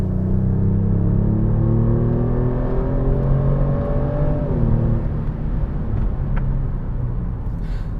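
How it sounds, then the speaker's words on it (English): Kia Stinger GT V6 in Sport Plus mode plays a synthetic engine note through the cabin, a loud steady drone that climbs in pitch as the car accelerates, then drops back and settles, with no talking. "So now let's go into Sport Plus and listen to the fake sound."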